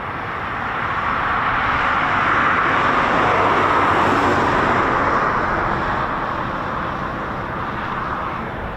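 A Royal Air Force Eurofighter Typhoon FGR4 jet taxis out, giving a steady, fairly loud broadband roar that swells slightly mid-way and holds throughout with no voices.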